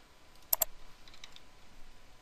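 Two quick keystrokes on a computer keyboard, close and crisp, followed by a few fainter taps, in a quiet room without talk.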